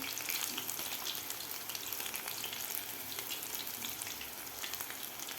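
Soybean pakoras deep-fry in hot oil over medium heat, a steady, dense hiss and crackle of bubbling oil running evenly throughout with no voices.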